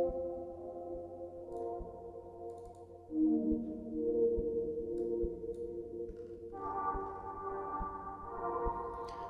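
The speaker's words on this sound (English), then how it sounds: "analog synth that's doing these kind of pitch bend, gliding, kind of doom kind of things." A Max for Live synthesizer in Ableton drones with layered harmonic tones that slide and bend in pitch, shifting up abruptly partway through, with faint clicks scattered underneath.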